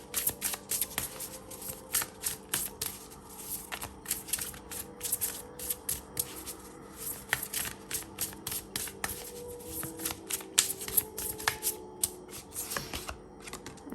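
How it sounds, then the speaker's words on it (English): Tarot cards from a Super Lunaris deck shuffled and pulled, a steady run of quick papery riffles and flicks close by for the whole stretch, with no talking. "Let's pull more cards and let's see what we have here."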